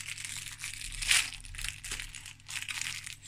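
Plastic toy packaging for a My Little Pony set is torn and crinkled open in uneven, rustling bursts, close and moderately quiet.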